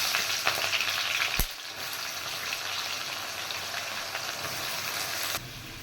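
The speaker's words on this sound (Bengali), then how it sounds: "পেঁয়াজটা লাল করে ফ্রাই করে নেব" Chopped onions frying in hot oil with whole garam masala and cumin seeds, a steady close sizzle with a sharp clatter near the start, continuing evenly with no talk.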